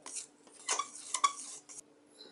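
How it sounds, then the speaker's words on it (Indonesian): A spatula stirs flour and sugar in a bowl, giving a few soft scrapes and light clinks against the dish, quiet and close, with no talking. "masukkan 350 gram tepung terigu, kemudian 14 gram gula ataupun setara dengan 1 sendok makan, kemudian aduk dengan spatula"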